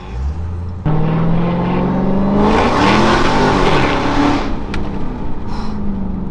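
A supercharged Dodge Hellcat engine roars loudly as it accelerates hard, its pitch climbing with a high supercharger whine layered over the rumble, then easing off.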